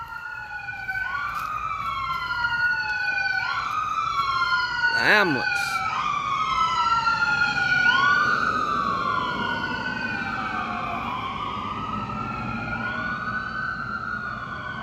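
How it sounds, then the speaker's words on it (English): A wailing emergency vehicle siren sweeps up and down on a quiet rural country road, steady and moderately loud as it passes, with a brief voice speaking over it. "I guess that's a first responder."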